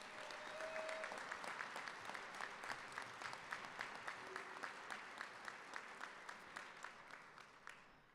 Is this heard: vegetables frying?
no